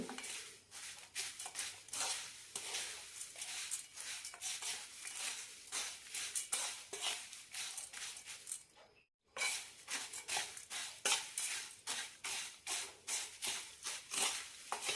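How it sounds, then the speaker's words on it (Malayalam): Masala aval, flattened rice with spices, is stirred and mixed in a pan, giving steady rhythmic scraping and clinking of a spoon against metal throughout, close and fairly loud with one brief pause. "നന്നായി മിക്സ് ചെയ്യാം"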